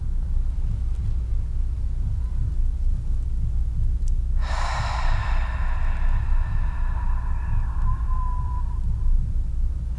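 One deep breath during a yoga class, a soft airy exhale or sigh that swells and then trails off over several seconds against a constant low hum.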